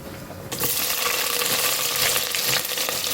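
Chopped onion, curry leaves and a piece of ginger drop into hot oil for a Tamil fish curry, bursting into a sudden loud sizzle that settles into a steady, close hiss of frying.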